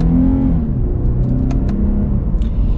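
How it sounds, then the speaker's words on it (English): A 2020 Lexus IS 300 F Sport accelerating hard, its engine note rising in pitch with quick gear shifts, loud and close from start to finish. "Let's get our acceleration here with the IS300."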